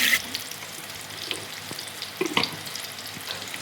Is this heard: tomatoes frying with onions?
yes